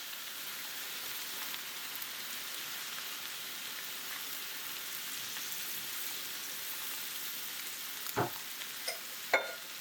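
Sugar and pineapple juice heat in a pan, giving a soft, continuous rain-like sizzle. A few louder clinks and taps come near the end.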